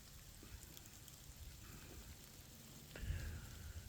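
Steady, faint rain falls outdoors at a hunting spot, a soft continuous patter with a slightly louder rustle near the end.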